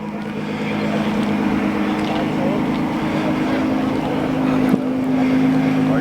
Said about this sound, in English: A bit of revving going on over here.